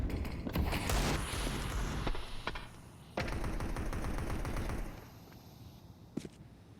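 Rapid auto sniper rifle fire in Counter-Strike 2 during a showmatch on the Overpass map, a dense burst of loud shots for several seconds, then quieter game sounds with a lone sharp report near the end.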